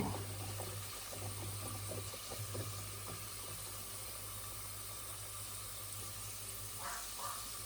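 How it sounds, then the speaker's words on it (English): Pieces of dough for a Lithuanian anthill cake frying in hot oil make a quiet, steady hiss throughout. "Just drop it in slowly, because you don't want oil to splash everywhere."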